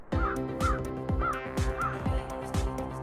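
A black crow in a tall forest tree caws repeatedly in a steady rhythm of about six harsh calls, each close and loud, over a soft musical background.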